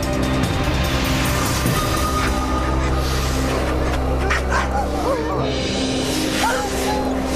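Greenland sled dogs barking, yipping and whimpering together in a loud, continuous outdoor chorus, with a steady low rumble and some voices mixed in.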